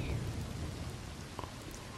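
Heavy rain pours down in Red Dead Redemption 2, a steady broadband downpour with a low rumbling undertone, loud and continuous with no pauses.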